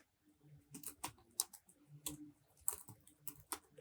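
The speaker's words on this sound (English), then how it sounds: "I'm going to type in here" Someone types on a computer keyboard while building a Power BI report, with an irregular run of close, crisp key clicks and clacks in a quiet room.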